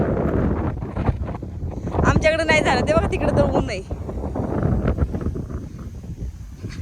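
Strong wind blowing across an open outdoor spot, roaring steadily into the microphone under continuous nearby talk.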